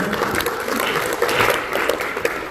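A ceremony audience at a university anniversary service and graduation applauds to welcome a guest, a moderate, diffuse patter of many hands filling the room steadily without pause.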